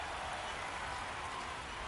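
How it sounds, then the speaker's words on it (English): Rain falling during a baseball game in the video game MLB 26, a faint, steady hiss of dense drops with no talk over it. "Well, the rain's still a factor here"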